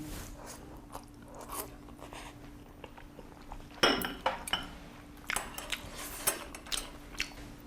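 Pasta with homemade ground tofu being eaten at a farm restaurant, quiet close chewing and crunching with clinks of cutlery against a dish, soft and intermittent without talk.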